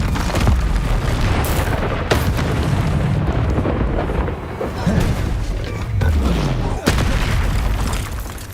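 Fire spell cast in the Hogwarts Legacy game, a loud booming burst of flame among ongoing combat effects, with several sharp impacts and rumbling blasts over the span.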